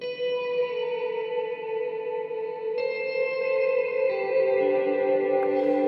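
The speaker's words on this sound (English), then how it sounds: "Reverbs react very differently to slide sounds." Slide guitar played through a Chase Bliss Dark World reverb pedal, sustained gliding notes blooming into a dense wash of reverb and echo that swells steadily louder, heard alone without voices.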